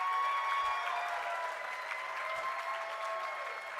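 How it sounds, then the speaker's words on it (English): Audience applause for a financial consultant at an awards gathering, a sustained wash of many hands clapping at moderate level, steady throughout with faint bits of crowd noise underneath. "Please give her a big round of applause."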